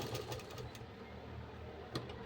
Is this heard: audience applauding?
no